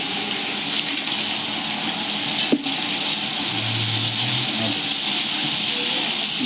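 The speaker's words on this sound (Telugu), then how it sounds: "మసాలా దినుసులు వేస్తున్నానండి" Whole spices frying in hot oil in a pan for biryani give a steady, loud, dense sizzle throughout, with a brief clink of a utensil midway and no speech.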